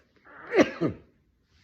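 A single sneeze, a sharp burst with a quick second release, close and fairly loud, followed by quiet.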